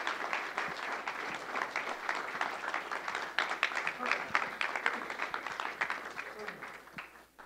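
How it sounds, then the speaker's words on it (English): An audience gives a round of applause after an onstage conversation, distinct individual claps crowding into a lively, fairly close patter that thins out near the end. "how about another round of applause for Paul and Katrina and their wonderful conversation"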